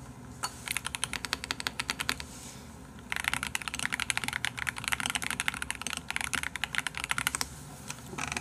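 Rapid clattering keystrokes on a computer keyboard come in two bursts of steady typing separated by a short pause, close and fairly quiet over a faint background hum.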